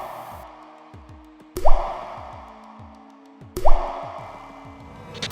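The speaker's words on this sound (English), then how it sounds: "A faucet drips, then dies." Water drips from a faucet and the last drops fall from a tilted jug, a handful of small plops with two louder, ringing drops standing out in an otherwise quiet room.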